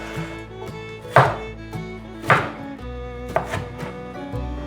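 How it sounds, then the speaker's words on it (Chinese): A kitchen knife slices through a tomato on a cutting board with a few distinct, sharp chopping thunks spaced about a second apart, close and clear over a quiet humming background, with no talking. "把番茄的蒂头切掉， 把番茄切片"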